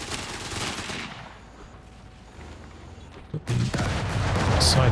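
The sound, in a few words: machine gun fire in video game Company of Heroes 3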